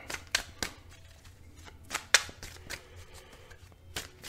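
Tarot cards being shuffled up close, a series of crisp papery riffles and snaps at irregular intervals, with no voices.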